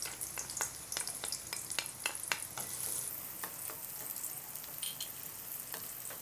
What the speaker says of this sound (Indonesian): kemudian kita tumis dulu ya bawang bombaynya.